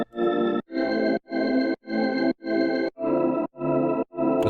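A music arrangement of chords with a vocal sample and organ plays as eight evenly spaced, choppy stabs, each chord cut short with brief gaps between them, and no one speaking.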